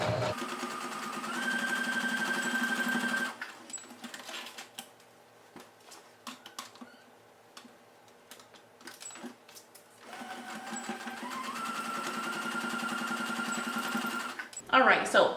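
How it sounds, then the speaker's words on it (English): A sewing machine stitches a skirt seam at a 5/8 inch allowance in two close, steady runs of whirring and rapid needle clatter, separated by a quieter pause filled with clicks and handling sounds. "We're going to be sewing on a 5/8 of an inch seam allowance."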